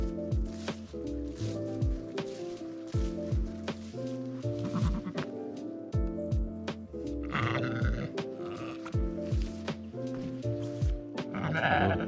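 Sheep bleat on an autumn farm where young males await slaughter rather than shearing, several calls overlapping in an irregular rhythm over a steady, fairly loud background with no talk.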